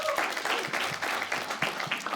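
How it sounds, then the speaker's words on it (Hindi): A group bursts into steady applause on a reaction show, sustained clapping of moderate loudness filling the moment with a few faint voices mixed in. "एक बार तालियां हो जाए"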